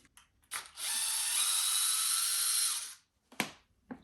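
Screws being removed from the differential gear of an Arrma Limitless GT RC car with a power tool, a steady high whirring run of about two seconds between short clicks and clatters.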